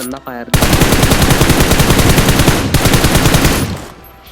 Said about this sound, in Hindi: अब यहाँ से मैं हल्का सा फायरिंग देता हूँ